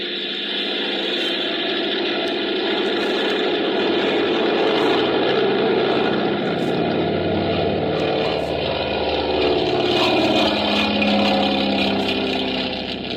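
A propeller airplane engine running at takeoff, a loud, steady droning roar that swells slightly and holds throughout, close and alone with no talking.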